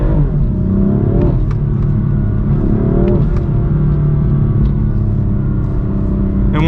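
BMW M4 engine accelerating hard in manual mode, heard from inside the car: a loud, steady roar climbing in pitch through a couple of shifts, with road rumble beneath.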